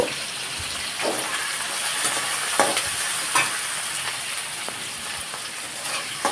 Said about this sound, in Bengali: কড়াইয়ের তেলে আমি এখানে জিরা এবং কালো জিরার ফোড়ন দিয়ে পেঁয়াজ দিয়ে দিয়েছি